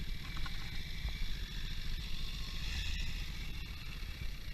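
A motorcycle engine idles steadily during a riding lesson, giving a continuous mid-level rumble with some clatter. No voices are heard.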